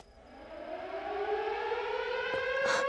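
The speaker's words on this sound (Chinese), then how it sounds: "警报！" A wailing air-raid alarm siren in a wartime spy film, rising steadily in pitch and loudness over nearly three seconds, heard alone.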